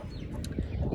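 Backyard chickens cluck briefly in a short, noisy burst, with a rooster among the flock.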